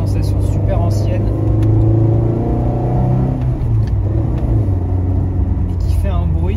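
A 1981 Talbot Sunbeam Lotus on a mountain road gives a loud, steady in-cabin engine drone with a gear change and a brief rev, while someone talks over it throughout.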